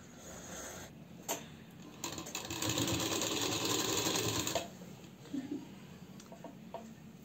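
Sewing machine stitching pleats into a pheran cuff, running in a few short bursts and then a sustained steady whir of several seconds, close by and moderately loud.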